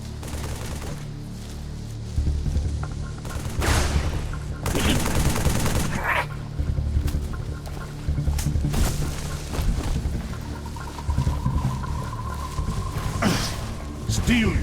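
Halo 3 video game gunfire, with rapid bursts of automatic weapons and booming shots that come and go over a background rumble, mixed with shouted voices.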